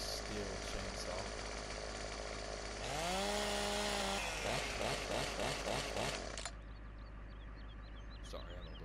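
Steel chainsaw in Farming Simulator 17 revving and cutting wood, a steady buzzing drone that rises in pitch under load for a second or so and then falls away, fairly close.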